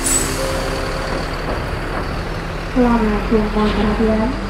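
A Mercedes-Benz truck engine idles and rumbles nearby at Merak ferry port with a hiss of air brakes, while a voice talks over the steady traffic noise.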